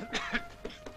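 Harsh coughing from someone who has just smoked strong makhorka tobacco, four short dry bursts in about a second, near and fairly quiet with no talk.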